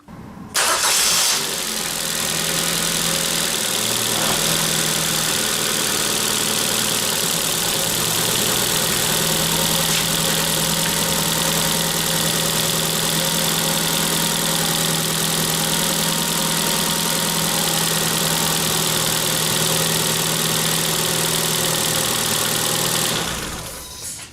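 A car engine cranks and catches during a battery starting test, then settles into a steady, loud mid-pitched idle for about twenty seconds before cutting off, with no talking.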